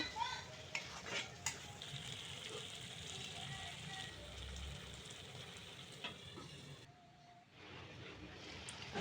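Potatoes stir-fried with spices in a pan for a Bangladeshi beef dish, giving a steady moderate sizzle with intermittent scraping and stirring clinks; the sizzle briefly drops near the end.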